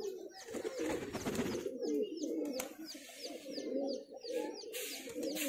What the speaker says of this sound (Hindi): ये साजापुरी में हरा कबूतर है